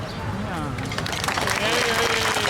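An outdoor Memorial Day ceremony crowd claps loudly and continuously while a voice speaks over the applause.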